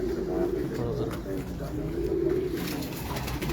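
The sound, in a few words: pigeons cooing on a rooftop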